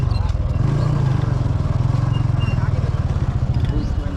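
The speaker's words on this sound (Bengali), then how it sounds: "অবশেষে আমরা চলে এসেছি আলমডাঙ্গা বাইকের বাজারে অনেক বাইক তো আছে এখানে" A motorcycle engine idles close by at the busy Alamdanga bike market in Kushtia, Bangladesh, a loud, steady rapid putter with a faint crowd murmur and other traffic behind it.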